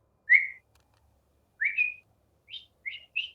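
A person whistles short, bird-like chirping phrases imitating a bird: five separate rising and warbling whistles spaced across a few seconds, clear and close against near silence.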